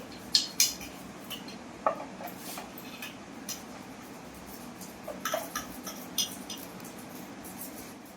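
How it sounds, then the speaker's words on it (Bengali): Light clinks and scrapes of a knife working on a silver carp, with sharp metallic taps near the start and scattered softer scraping, close and fairly quiet. "আমি মাছটাকে একটু ছাড়িয়ে নিই"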